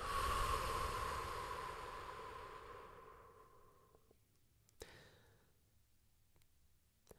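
A long, deep exhale during yoga breathing, a soft airy rush close to the microphone that slowly fades over several seconds, followed by a couple of faint clicks in the quiet.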